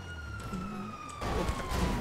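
A wailing police car siren in GTA rises and falls over a rumbling car engine, fairly close, growing louder in the second half.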